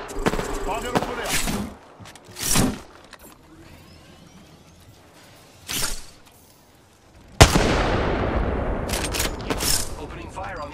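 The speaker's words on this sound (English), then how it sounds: "Opening fire on the enemy." Kraber sniper rifle shots in a battle-royale video game, a few sharp, loud cracks spaced seconds apart, the last followed by a long, noisy rumble, with game sound effects between them.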